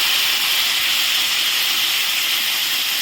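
Cumin, turmeric and coriander powder mixed with water is poured into hot oil with onions, producing a loud, close, steady hiss of sizzling that holds evenly for about three seconds with no voices.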